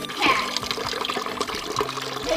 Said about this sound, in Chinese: 先把虫菌清洗一遍啊